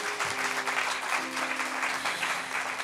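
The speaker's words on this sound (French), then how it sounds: "On peut l'applaudir." Church audience applauding a pastor during a service, a steady wash of clapping throughout with faint voices underneath.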